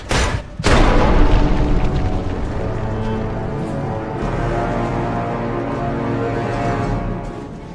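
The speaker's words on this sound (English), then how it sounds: "I meet another untimely end at the hands of a frag mine" A frag mine detonates in Fallout 3 with a sharp, loud boom. A long rumbling roll and debris noise follow and fade slowly over several seconds.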